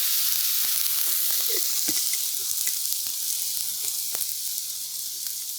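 Oyster sauce sizzles steadily on a hot Blackstone griddle while chicken fried rice cooks, a constant bright hiss broken by faint scraping and popping from stirring, with no voices.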